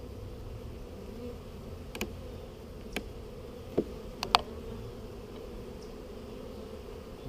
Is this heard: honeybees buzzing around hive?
yes